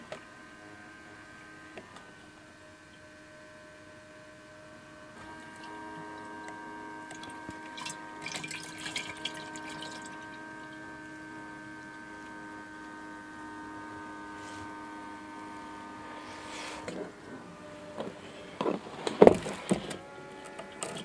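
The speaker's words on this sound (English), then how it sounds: "So it's pumping up and over cold diesel fuel." A portable fuel pump pumps cold, thickened diesel fuel for winterizing a Kubota, giving a steady whirring motor hum with a faint mechanical tone that runs throughout, then clunks and handling knocks near the end.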